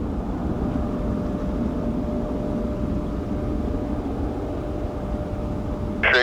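An Allegiant airliner takes off from runway 17 at Ford Airport in Grand Rapids. Its steady, broad engine roar holds at an even level throughout, with a brief sharper noise at the very end.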